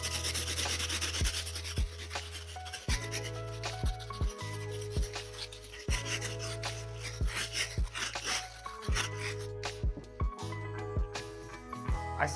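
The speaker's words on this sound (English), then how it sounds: "let's grab our stiff bristle brush and get to work on the soles" A stiff bristle brush scrubs the soles of a pair of Jordan 5 sneakers in loud, close, rhythmic rubbing strokes, with regular bursts of scraping and no talk.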